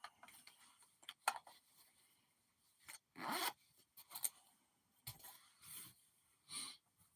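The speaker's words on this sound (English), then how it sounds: "But you see the little zipper pull? And then you open it up." A small bag case unzipped by its little zipper pull, heard as several short zipping rasps and bursts close by, with quiet handling noises between them and no talk.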